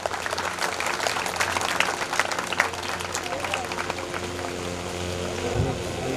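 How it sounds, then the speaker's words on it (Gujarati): An audience applauds to welcome a guest onto the stage at an education event, steady clapping filling the whole stretch at moderate volume with crowd noise beneath it. "તાળીઓથી વધાવી લઈએ."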